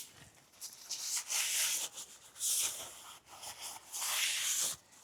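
Rag wiping a Toyota Tacoma brake rotor face with brake cleaner, close soft hissing rubs in several sweeping passes with short pauses between them.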